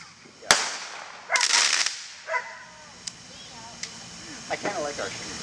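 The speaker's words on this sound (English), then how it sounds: "This is an air bomb." An air bomb firework bursts with one sharp, loud bang, then a longer hissing burst and several fainter pops and crackles, with people talking outdoors around it.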